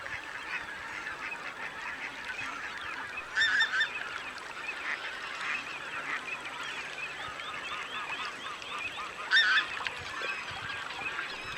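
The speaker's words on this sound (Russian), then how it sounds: "Гуси, отдыхающие на пролете, чувствуют себя полноправными владельцами этих временных мест обитания" A flock of geese resting on migration honks continuously from a distance, with two brief louder bursts of calling standing out over the steady chatter.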